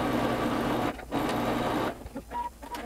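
Sewing machine stitching a thick folded hem on a sleeve, a steady mechanical whir running near and loud, stopping briefly, then resuming in shorter bursts.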